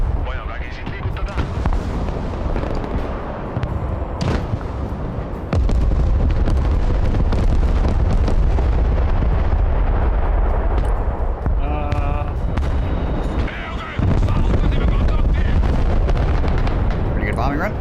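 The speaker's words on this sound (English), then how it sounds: "Pretty good bombing run." Heavy bombs from an air strike in the modern war game Broken Arrow pound the ground in a long series of loud, booming explosions and rumbling blasts, with radio chatter and voices speaking over the barrage.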